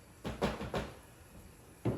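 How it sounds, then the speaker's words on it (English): Knocking on a wooden door during a tabletop fantasy role-play session, with three firm knocks close together and a fourth after a pause, each a short dull thud in a quiet room. "I'm gonna knock on his door."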